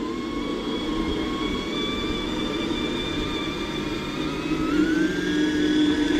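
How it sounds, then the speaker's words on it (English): An RC vehicle with an all-metal drivetrain and a steel spur gear runs on an outdoor course in first gear, giving a continuous whirring gear whine whose pitch holds steady, then rises near the end as it speeds up. "Kind of noisy, but it's an all metal drivetrain"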